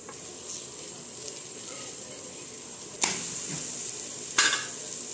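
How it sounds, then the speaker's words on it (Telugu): A potato paratha fries in oil on a hot flat griddle with a low, even sizzle, broken twice by sharp, bright hissing bursts as the flatbread is pressed or moved on the pan. "ఇట్లా చేసుకున్న చపాతీ పెంక పైన వేసుకొని నూనె వేసుకొని కాల్చుకోవాలి."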